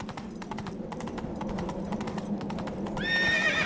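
Roach the horse galloping in The Witcher 3, rapid close clip-clop hoofbeats over ground noise, ending in a loud whinny.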